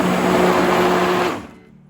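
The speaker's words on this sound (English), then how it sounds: "use the stick blender for about 3 seconds" A handheld stick blender whirs steadily while emulsifying soap oils for handmade soap, a loud buzzing motor drone that cuts off abruptly near the end, leaving faint quiet afterward.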